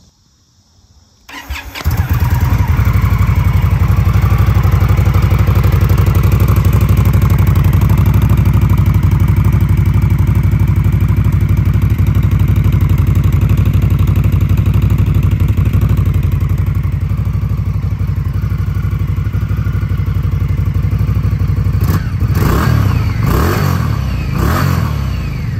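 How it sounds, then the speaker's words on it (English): An Indian Scout Rogue motorcycle starts up after a brief pause, settling into a loud, steady idle from its aftermarket exhaust pipes that rumbles on close by for over twenty seconds, ending with a few quick throttle blips. "I'm gonna go ahead and fire the bike up here for you so you guys can hear what the pipes sound like."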